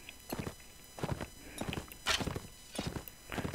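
Horse hooves pounding in a Viking video game during mounted combat, arriving in rhythmic bursts of clip-clop hoofbeats of steady moderate loudness, alone without talk.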